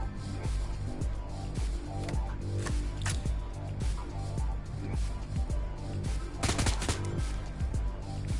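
Gunfire from combat in the video game Shadowrun Hong Kong, a steady run of sharp repeated shots with a few louder bursts, layered over game music and effects throughout.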